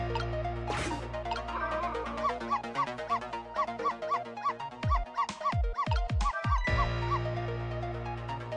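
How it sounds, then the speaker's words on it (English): Repeated dog barks from the Ghost Trick video game play over looping game music, a rapid run of sharp yips bunching up in the middle before the music carries on alone. "if you bark like that, you'll make the lady next door start howling"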